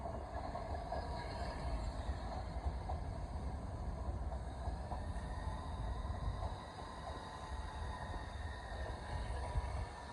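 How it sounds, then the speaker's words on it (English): A Southeastern passenger train, a service from Ramsgate via Faversham to London St Pancras, runs at Gillingham with a low, steady rumble and faint rail noise throughout, quiet and fairly distant. "here we have the 1425 Southeastern service from Ramsgate via Faversham to London St Pancras"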